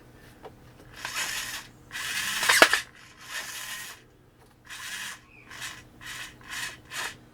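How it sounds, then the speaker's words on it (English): Small screws on the lower utility arm servo of an R2-D2 replica are loosened and retightened with a hand tool, producing close, dry rubbing and ratcheting bursts in short bouts separated by pauses. "So I'll just rejiggle the screws a little bit."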